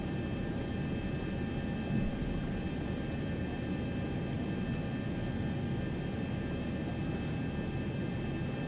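Boeing 737-800 jet engines at takeoff power in the X-Plane 11 flight simulator, a steady, loud, continuous roar with a constant whine holding throughout.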